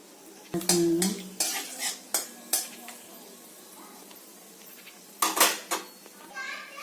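Bay leaf, dried chilli and panch phoron frying in a pan, with loud clatters and scrapes of a metal utensil against the pan over a low sizzle, and a few short bursts of knocking near the end.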